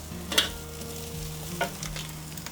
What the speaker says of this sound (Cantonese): 炒到佢咧啲邊咧有啲黃黃地咧